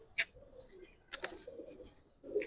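Giribaz pigeons, silver-coloured birds of the Palla line, coo softly in short low murmurs, with a brief sharper call near the start and another burst toward the end.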